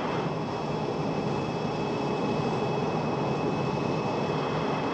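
A 1970 airliner on landing approach gives a steady, loud, continuous engine roar with a faint high whine throughout and no break.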